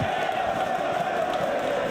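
Wrestling crowd at a late-night Ring of Honor Death Before Dishonor show singing an "Ole, ole" chant, a sustained loud wash of massed voices filling the arena without break.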